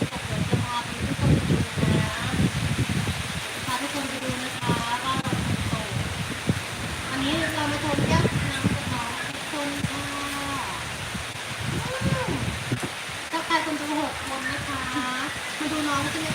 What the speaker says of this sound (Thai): บ้านเราฝนตกนะคะบ้านเรา